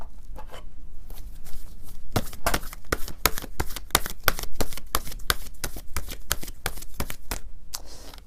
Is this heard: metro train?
no